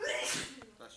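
A single sharp sneeze during a board of education meeting, close and abrupt, following a breathy inhale; a brief faint voice trails after it.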